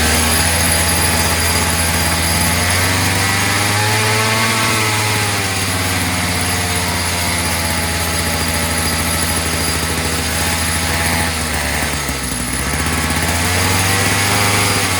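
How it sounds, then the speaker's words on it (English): A worn pocket bike's small two-stroke weed-eater engine runs steadily at a too-high, buzzing idle, loud and close, with a brief dip in pitch near the end. "This is essentially just a weed eater engine."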